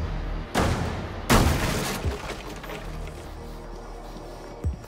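Two heavy booming gunshots ring out in quick succession in Rainbow Six Siege, destroying a barricade, followed by crumbling, clattering debris and a last thud near the end.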